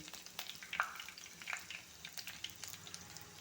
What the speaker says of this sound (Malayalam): ഇപ്പോൾ നമ്മൾ ഉലുവ പൊട്ടിക്കൊണ്ടിരിക്കുകയാണ്